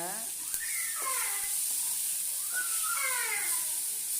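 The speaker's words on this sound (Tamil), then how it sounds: "நல்லா வந்து வதக்குங்க." Chutney ingredients sauté in a pan with a constant, soft, sizzling hiss, while a person speaks over it throughout.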